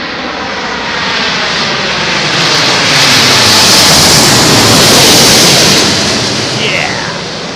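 An arriving airliner at London Heathrow roars overhead in a thunderstorm, a loud, broad jet rumble swelling to a peak and easing off as it passes close, with faint talk underneath.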